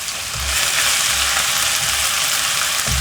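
Chopped onion frying in hot cooking oil in a wok, a steady close, loud sizzle with brief soft stirring thumps underneath and no talking.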